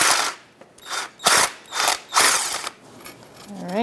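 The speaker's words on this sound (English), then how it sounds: "17mm socket on the other end and just free it up" A ratchet with a 17mm socket loosens the bolt of an engine torque strut mount on a 2012-2017 Hyundai Accent 1.6L, giving several close, loud clicking bursts in an uneven rhythm.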